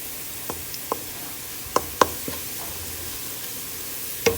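Garlic sizzles in hot oil while being stir-fried for Mej Khuam noodles, a steady hiss with scattered sharp clicks and scrapes of a utensil against the pan, close and fairly quiet.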